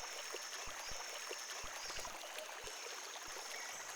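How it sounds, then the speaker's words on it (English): A river beside a rainforest path flows with a soft, steady rushing hiss, faint and continuous, with occasional small splashes and ticks. "The path goes beside a river."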